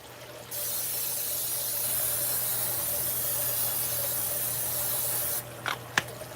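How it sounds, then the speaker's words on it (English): Cooking spray hissing onto a pancake griddle in one long continuous burst lasting several seconds, close and steady, ending with a couple of small knocks. "Now, we're going to spray it again,"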